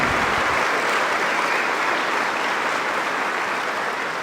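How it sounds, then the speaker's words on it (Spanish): An audience applauds a priest, Padre Luis Toro, with dense, steady clapping that fills the room at a constant level throughout, with no voices over it. "vamos a darle un aplauso al padre por ese conocimiento que tiene"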